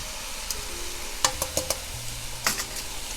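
Onions and pork chops sizzle in a pan, a steady frying hiss broken by several sharp clicks and scrapes of a utensil stirring.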